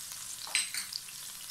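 Tomatoes and spices sizzle softly in a frying pan as they are stirred, giving a faint, steady hiss with a brief scrape in the middle.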